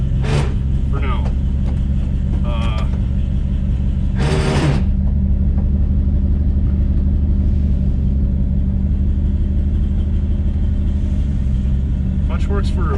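A 1959 Chevrolet Bel Air, left abandoned in a backyard for 45 years, idles with a loud, steady low rumble, with a couple of brief higher bursts over the engine.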